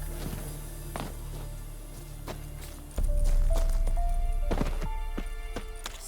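Roach, a horse in The Witcher III: Wild Hunt, clip-clops along with scattered hoof strikes, then the ambience swells louder partway through as the steps continue with a few brief tonal sounds.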